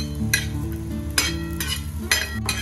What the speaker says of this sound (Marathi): भाजलेल्या खोबऱ्याचे काप करून ते थोडंसं तेल टाकून तेलात थोडंसं भाजून घ्यायचं।